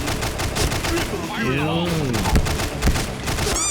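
An RPD heavy machine gun fires in the online shooter Point Blank, with rapid, loud bursts of gunfire in a rhythmic stream and a whistling effect passing through midway, while a player talks over the shooting.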